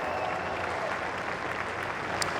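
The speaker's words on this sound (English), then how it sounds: "Mesdames et messieurs, applaudissez Kevin Estre très très" Audience at the 24 Hours of Le Mans Hyperpole session applauding the winning driver: steady, dense clapping throughout, fairly distant and uniform, with no pause.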